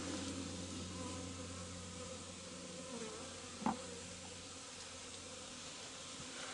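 Honeybees in a hive hum steadily in a low, faint drone that stays even throughout, with one brief knock partway through and no speech.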